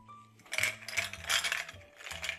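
Cocktail being stirred with ice and lime in a glass, a series of clinking, rattling ice knocks in an uneven rhythm, close and fairly loud, with no talking.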